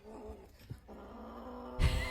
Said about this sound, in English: The kitten is growling with this raw piece of meat hanging from its mouth.